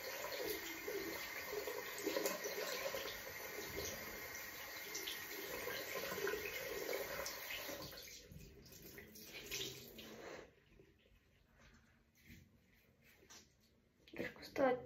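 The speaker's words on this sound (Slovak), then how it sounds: "idem ešte opláchnuť toto, lebo je to celé od krému" Water running from a bathroom sink tap while cream is rinsed off an item, a steady close splashing rush that cuts off partway, leaving quieter drips and handling noises.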